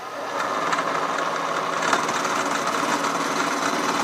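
An end mill on a milling machine plunges straight down into aluminum, a steady, fairly loud mechanical whir and grinding hum running continuously throughout, with no voices over it.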